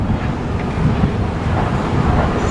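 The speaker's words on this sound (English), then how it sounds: "we've got the water cannon on" A water cannon sprays at a building demolition site on Chapel Street and Bonny Street, a loud, steady roaring rush mixed with wind buffeting the microphone, continuous with no talk.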